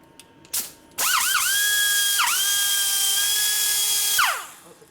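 A grinder machining a Harley twin cam cylinder head whines up to a high steady pitch, dips briefly under load, then holds its shrill tone before spinning down; a short clank comes just before it starts.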